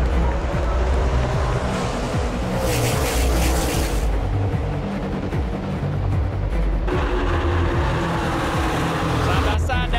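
NASCAR race cars run side by side at Texas, a steady loud roar of engines at speed rising and falling as they pass, with a commentator talking over the noise.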